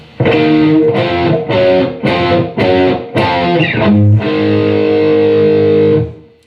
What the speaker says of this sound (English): They're just power chords.